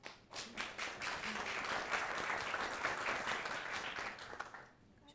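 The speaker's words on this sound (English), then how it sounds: "Give them a round of applause." Applause from a conference audience as guests come onstage for a panel on Europe's tech and AI policy, dense clapping swelling quickly, holding steady, then tapering off, fairly faint overall.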